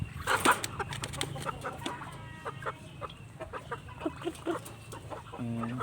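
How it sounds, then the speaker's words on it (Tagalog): Several chickens cluck and chatter close by in short, irregular bursts, with a louder squawk near the start. "Ayan, mga manok."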